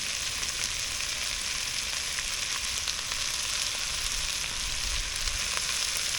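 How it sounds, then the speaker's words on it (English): Flour roux for a green crab corn chowder sizzling in a pan, a constant close frying crackle with scattered small pops, steady in level, no one talking. "we're going to add just a little handful of flour to make our roux"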